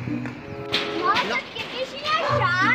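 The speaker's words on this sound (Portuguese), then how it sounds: "Tem como vocês parar com essa gritaria aí, por favor?" Children shout and play noisily, with overlapping kids' voices and excited calls rising and falling over a steady background hum.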